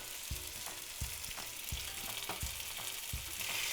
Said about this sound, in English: You get a good sizzle.